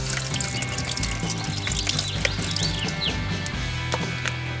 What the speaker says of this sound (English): then we're also going to add water to our water pan